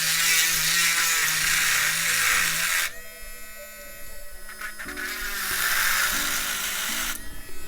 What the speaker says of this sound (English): I use this tool to grind away the thin side